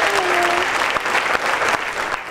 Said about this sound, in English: Let's give our television audience a big round of applause.